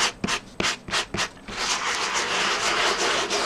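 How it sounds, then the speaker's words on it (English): Sanding block roughing up a card surface to a suede texture: several quick separate scrubbing strokes, then a continuous close, steady rasping rub with no talk. "So I've got a sanding block, and I'm just roughing up the surface here."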